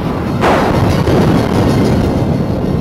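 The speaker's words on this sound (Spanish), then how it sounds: "se escuchó una especie de explosión" A powerful explosion with a fireball over a town, shaking the ground, comes as a loud, close, deep boom that rolls into a sustained, heavy rumble with no voices.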